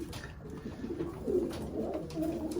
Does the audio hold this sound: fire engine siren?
no